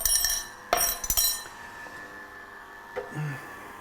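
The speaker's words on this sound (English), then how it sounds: "let me get a glass here" A drinking glass is picked up and set down in a kitchen, giving a few bright, close clinks and knocks early on, then quieter handling sounds.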